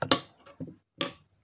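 Beading thread is snipped with small scissors while a superduo bead bracelet is made: two crisp, close snips about a second apart, then silence.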